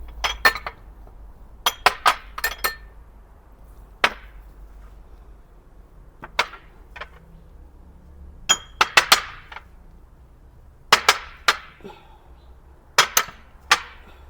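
Spices, salt, coriander and garlic powder being mixed in a bowl, heard as a close series of sharp clinks and taps of a utensil against the bowl, in irregular bursts with short quiet gaps between them.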